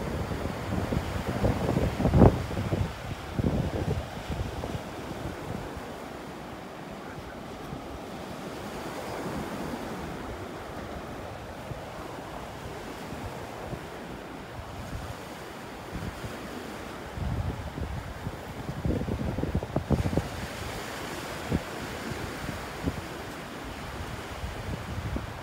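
Surf washing onto a Gulf beach at Delnor-Wiggins Pass State Park, with steady wind buffeting the microphone, broad rushing waves swelling and receding continuously, and no voices.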